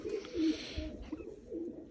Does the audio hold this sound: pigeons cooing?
yes